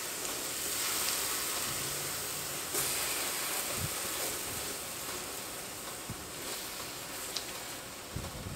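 Mahi mahi fillets sizzle on an electric skillet, a steady close hiss of frying that runs unbroken throughout with a few faint clicks.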